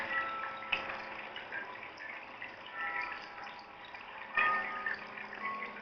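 Waterfall heard from indoors in a quiet room, a faint, muffled steady rush of water with a couple of sharper splashing clicks rising above it.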